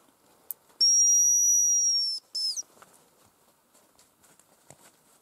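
Birds in the taiga give a long pure whistle followed by a brief second note, clear and fairly close against an otherwise quiet backdrop with faint rustles.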